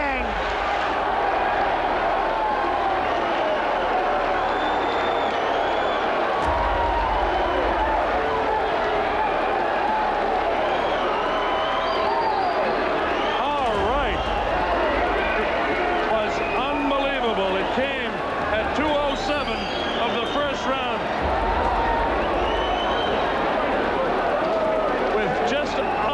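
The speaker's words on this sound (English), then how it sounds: "Listen to the crowd." A boxing crowd roars after a knockout, a dense, continuous wall of cheering and shouting that stays loud throughout, with voices mixed in.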